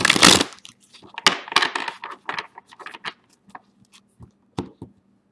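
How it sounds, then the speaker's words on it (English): Tarot cards being shuffled give a burst of riffling at the start, followed by scattered soft slaps, taps and shuffles of the deck at close range, with no voices. "And your fourth and final shuffle for solicitation."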